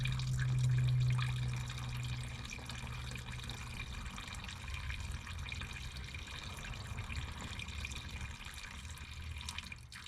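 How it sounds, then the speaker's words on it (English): Diesel fuel draining from the fuel filter housing of a 2001 Freightliner bus, a faint steady trickle of liquid with a slightly louder gush at the start, heard alone. "So we'll let that housing drain fully, and we'll shut that valve before we take the filter out."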